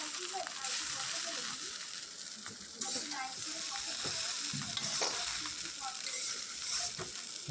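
Egg chicken chow mein being stirred with ketchup in a hot pan, a continuous close sizzle with repeated scraping and tossing strokes at an uneven rhythm, loud and steady.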